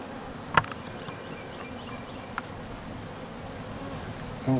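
Honey bees drone in a soft, continuous buzz during an open hive inspection while a split is made, with a couple of brief clicks and knocks over the steady hum.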